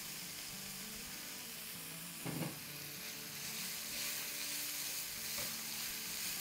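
Meat stir-fries in oil for a chilli stir-fry, a soft, even background sizzle with one brief thump of a spatula about a third of the way in and occasional light scrapes.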